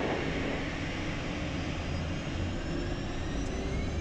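Phenom 300 private jet engines roaring during takeoff, heard as a loud, continuous broadband jet rumble and hiss from the cockpit with a faint rising whine.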